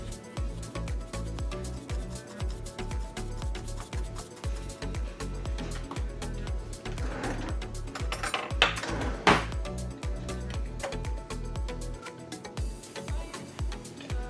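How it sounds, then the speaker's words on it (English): Potatoes with oregano, parsley and minced garlic tossed on a sheet pan, giving a steady run of close scraping and metallic clatter over about fourteen seconds, with soft rustling and no pauses. "we're just going to mix this until all of the potatoes are well coated."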